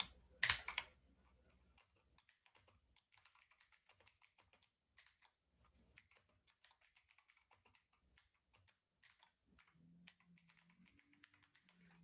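Code being typed on a computer keyboard, with a quick run of crisp, close key clicks in irregular bursts and short pauses, alone with no talk.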